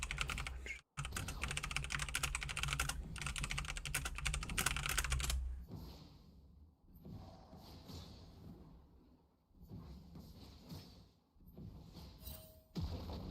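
Rapid typing on an all-black computer keyboard, a dense run of close clicky keystrokes for several seconds, then sparser scattered taps with pauses between.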